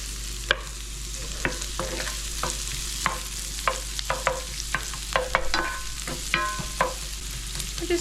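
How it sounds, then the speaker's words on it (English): Chipped beef searing in hot bacon grease over high heat, a loud constant sizzle punctuated by frequent sharp scrapes and clicks of stirring. "give it some flavor by cooking it in some bacon grease. I have my heat on an 8. Looking for a nice hot sear."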